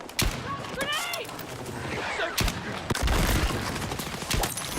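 Mortar and gunfire in an online military shooter game: sharp explosive thuds and bursts land at intervals amid a busy battle din, while someone talks over them.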